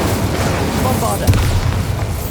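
A video game's Bombarda spell detonates in a loud, dense booming blast with rumbling low-end impact that fills the whole short moment, close and heavy.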